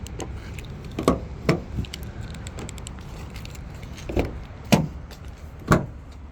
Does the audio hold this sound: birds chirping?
no